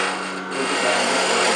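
A wooden replacement tool handle is chamfered on a lathe, making a brief scraping rasp of a cutting tool against spinning wood over a steady machine hum.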